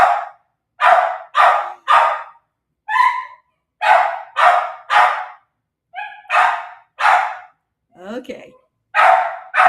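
A dog barks in the backyard after a rabbit, a close, loud run of about a dozen sharp barks in quick bursts with a brief whine, and a person speaks one short word among them.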